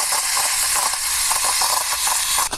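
Coffee from a Bialetti Brikka stovetop pot is poured into a glass, a steady close hissing, trickling stream that runs without break and ends with a few small clinks.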